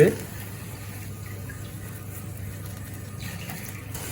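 Water gushes steadily into a cooking pot, about five cups for a turkey osso buco sauce, a faint continuous pour lasting a few seconds in a quiet kitchen.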